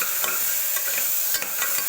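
Finely chopped onions fry in a pan with mutton while being stirred, a continuous close sizzle broken by periodic scraping stirs.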